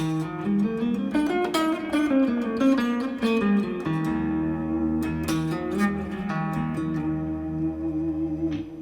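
An electric guitar runs up and down a bright E Lydian scale in quick single notes, ringing over a sustained low tone, with no voices.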